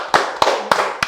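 Four sharp, evenly spaced claps ring out close and loud at a children's forum on vaccines, each a single crisp hand strike with a short decay and a pause before the next.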